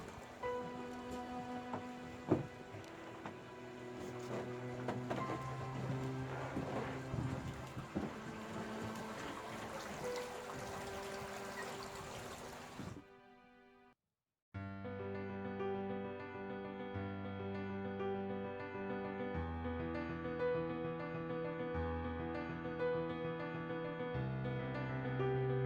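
Steady rushing water from a creek beneath a small covered bridge, heard outdoors and fairly faint, cutting off abruptly and then giving way to a different tonal background.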